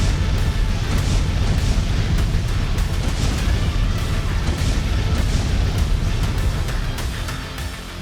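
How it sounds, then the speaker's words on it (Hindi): Continuous heavy, rumbling bombardment of factories and industrial buildings in wartime Mariupol, with dense low booms and crackle that hold steady and then fade slightly toward the end; no voices. "इस वीडियो में मारियोपोल की फैक्ट्रियों और औद्योगिक इमारतों में बमबारी आप साफ साफ देख सकते हैं।"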